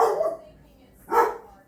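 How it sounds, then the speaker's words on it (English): A dog barks twice, a short burst at the start and another after a pause, fairly close and loud, in a kitchen while someone is preparing keto chaffles. "Sorry, my dog's barking."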